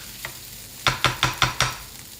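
Curry onions frying in a pan are stirred in five quick, evenly spaced scraping strokes over a low background sizzle, close and clear with no talking.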